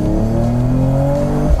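A Mercedes-AMG E53 Cabriolet engine revs up with its exhaust on the loudest setting, a loud, close, rising drone that holds a steady climbing pitch for about a second and a half, with no talking.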